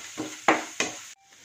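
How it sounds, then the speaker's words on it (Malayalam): Ginger and curry leaves sautéed in a pan, three short scraping stir strokes over a soft sizzle, close and fairly quiet, ending abruptly in near silence. "ഇതെല്ലാം ഇട്ട് നന്നായിട്ടൊന്ന് വഴറ്റാം."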